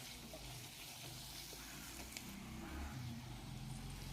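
Garlic butter mushrooms frying in a pan and being stirred: a faint, continuous sizzle with soft scraping of stirring, low and steady with light background hum.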